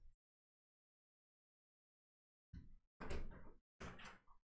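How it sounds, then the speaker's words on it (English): A house door opening for an arriving visitor: a brief soft sound at the very start, a long silence, then several close, loud bursts of door handling and movement. "Knock at the door."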